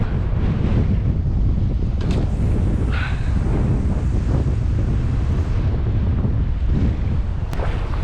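Wind gusting across a UK beach during sea fishing for cod, roaring and buffeting the microphone in a loud, constant low rumble with faint surf beneath, no voices.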